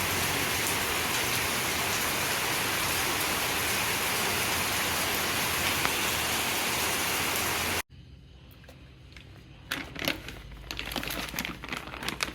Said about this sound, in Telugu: బయట వర్షం పడుతుంది కదండి